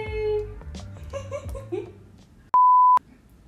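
A steady electronic censor beep, clean and loud, lasts about half a second. It follows playful, babbling voices and giggles and then cuts off abruptly.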